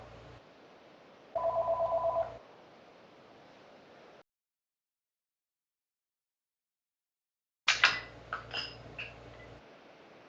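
A telephone rings in a short, close electronic burst of repeated tones, followed by a longer stretch of silence and then a second ringing burst.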